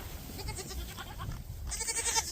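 Several goats in a barn with fresh hay bleat softly from close by in wavering, repeated calls, and one louder bleat comes near the end.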